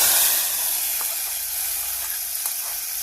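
Hot tempering of mustard seeds, onion, dried chilli and curry leaves hits a ripe mango curry, giving a loud, steady sizzling hiss that slowly settles, with a few faint clinks.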